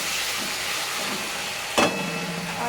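A steady hiss of steam rises from a covered pan of chicken for chicken rolls, and a sharp clack marks the lid being lifted partway through as the sizzle continues.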